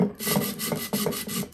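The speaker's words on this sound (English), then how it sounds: "I'm just sanding the top just to smooth it out." Sandpaper rasps rhythmically back and forth across the hard top of an epoxy tumbler, close and steady, with several quick strokes and no talking.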